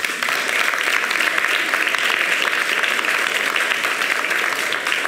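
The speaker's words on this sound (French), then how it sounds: "On applaudit." Dense, continuous applause from a crowd at a public discussion, steady and fairly loud for several seconds.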